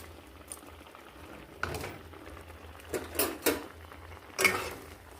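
A sweetened milk and ridge gourd curry boiling in a pot in a village kitchen: faint, soft bubbling with a few louder plops and bursts, close by and with no talking.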